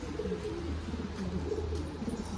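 A pigeon kept indoors coos in low, soft, rolling calls that run steadily over a faint background hum, close by and without talk.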